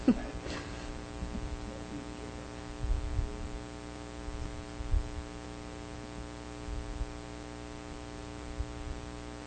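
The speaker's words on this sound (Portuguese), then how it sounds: "Eu pediria uma gentileza desligar esse ventilador, senão daqui a pouco acaba a voz." An electric fan runs in a room during a spoken talk, giving a steady low hum with a faint throbbing pulse that carries on evenly throughout.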